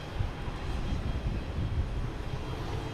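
A United Boeing 737 MAX 9 arriving at Boston Logan gives a steady, fairly loud low jet rumble that holds level throughout, with no voices over it.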